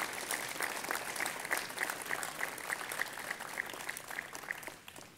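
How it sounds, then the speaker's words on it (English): Warm applause from an audience at the ribbon cutting ceremony for the Orange County Museum of Art, steady dense clapping close by that fades slightly at the end. "I think that deserves that applause."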